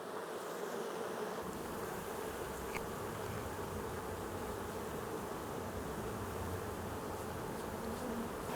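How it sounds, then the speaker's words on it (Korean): Tens of thousands of honeybees hum steadily while gathering nectar from tiny lacquer tree blossoms, a dense continuous drone close by and unbroken, with no voices. "작디 작은 옷꽃에서 꿀을 모아오는 수만 마리의 벌들."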